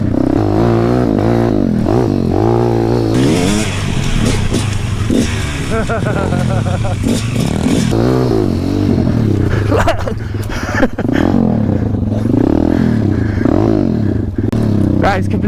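A KTM 250 SX two-stroke dirt bike engine revs hard and close, its pitch sweeping up and down in repeated throttle blips, with voices talking over it.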